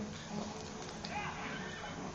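A horse neighs in The Legend of Zelda Twilight Princess, a short whinny heard faintly under game ambience and background noise.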